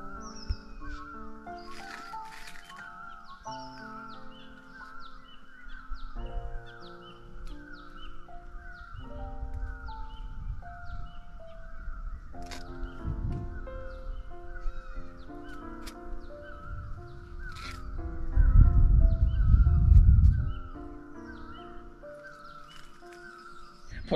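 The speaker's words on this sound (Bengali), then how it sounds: "পাখির গুঞ্জন শোনা যাচ্ছে আর দারুণ লাগছে।" Birds calling at dawn in the hills around a homestay near Kalimpong, North Bengal, with repeated caws and varied chirps throughout, a steady outdoor hum beneath and a louder low rumble near the end.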